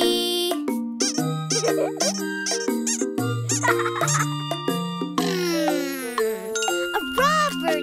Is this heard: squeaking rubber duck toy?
yes